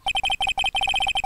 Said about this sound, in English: The phone that rang earlier wasn't mine. It was yours.